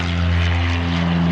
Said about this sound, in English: there's a plane taking off right there